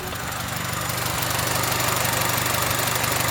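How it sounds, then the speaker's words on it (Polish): A car engine idles steadily and evenly, its low rhythmic ticking constant throughout with no surging or dips. "Silnik sobie fajnie chodzi, równiutko, cyka sobie, nic tutaj nie faluje."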